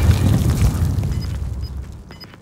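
A grenade explodes in a battle-royale video game with a loud, deep boom that rumbles and fades over about two seconds.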